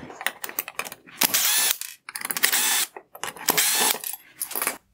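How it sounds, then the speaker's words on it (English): A powered driver backs Phillips head screws out of the front bezel of a 2011-2014 Chrysler 300 halogen headlight, making several short, close whirring bursts separated by brief pauses. "Next, I will remove the 3 Phillips head screws holding on the front bezel."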